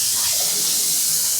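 Water runs from a pull-down faucet sprayer in a bathroom as a steady, close, bright hiss of spray with no break or talking.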